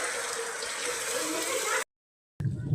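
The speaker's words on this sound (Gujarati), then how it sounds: "એટલે થોડો વધ્યો જો વરસાદ" Heavy rain pours steadily and streams off the roof eaves on a dark, rainy day, a dense close rushing hiss that cuts out briefly and then resumes.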